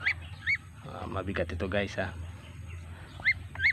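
A young Muscovy duckling peeps in short, high calls while sitting on a scale, a few close chirps scattered at the start and end, with someone talking over the middle.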